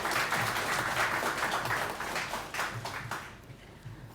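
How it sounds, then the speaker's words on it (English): An audience applauds a minister at a development fund launch event, dense clapping that holds for a few seconds and then thins and fades near the end. "Let us give him another round of applause,"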